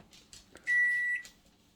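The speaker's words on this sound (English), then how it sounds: "Next up is an 1100 watt microwave." An 1100 watt microwave oven powered from a portable power station gives a single steady electronic beep of about half a second, clear and close, amid quiet room noise.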